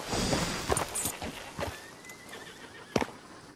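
A horse in the video game Red Dead Redemption 2 whinnies loudly at the start and snorts at a stable, with hooves clip-clopping and shuffling nearby, then another short snort near the end.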